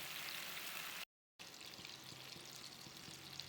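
Sardines coated with black pepper sizzle and fry steadily in hot oil, a dense continuous crackle that drops out briefly and then resumes.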